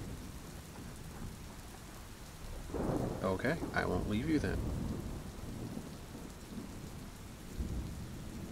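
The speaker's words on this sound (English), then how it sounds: "try to drown out the storm" A rainy thunderstorm rumbles and hisses steadily in the background while someone speaks softly in the middle, the low rolling thunder continuing beneath.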